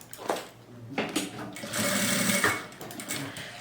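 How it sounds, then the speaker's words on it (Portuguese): A sewing machine stitches along a fabric bag strap, running in short close bursts with a longer steady run in the middle, while someone talks over it. "E agora vou costurar do outro lado."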